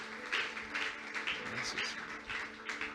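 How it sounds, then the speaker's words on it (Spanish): A church congregation claps together during a Sunday service, a soft, steady patter of many hands with irregular bursts, heard at a moderate distance with faint voices underneath. "Puedes dar un aplauso a Dios por lo que Él nos ha dado el día de hoy."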